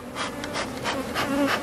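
Forager bees buzzing at the entrance of a small hive, a steady dense drone of many insects close by, with no voices.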